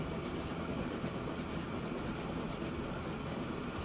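A train rolls along the tracks in the video game Transport Fever 2, a steady dense rumble with faint rhythmic clatter, constant and alone.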